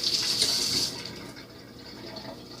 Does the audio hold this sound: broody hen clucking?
no